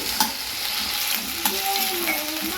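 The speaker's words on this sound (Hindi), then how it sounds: "आलू को भी फ्राई करके निकाल लूँगी।" Potatoes frying in a pan, a continuous close hiss of hot oil with a few light stirring knocks scattered through.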